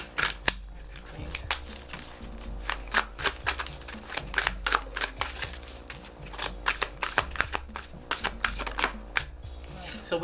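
A tarot deck being shuffled and cards drawn: rapid, close riffling and snapping of cards in dense repeated bursts throughout, loud and steady with no talk.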